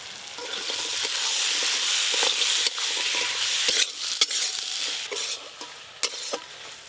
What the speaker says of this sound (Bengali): কষে রাখা মশলার ওপরেই ভেজে রাখা কাঁকড়াগুলো দিয়ে দেব।